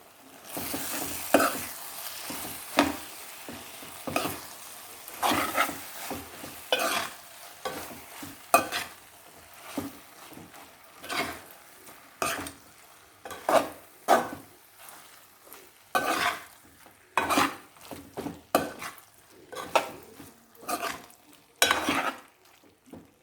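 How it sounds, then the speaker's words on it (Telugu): Fried okra pieces tossed in a pan with salt, chili and masala over softened tomatoes for a prawn curry. A spatula scrapes and clacks again and again in an uneven rhythm over a quiet, steady sizzle. "బెండకాయ ముక్కలు కూడా ఉప్పు, కారం, మసాలా బాగా పట్టేటట్టు కలిసేటట్టు తిప్పుకోండి."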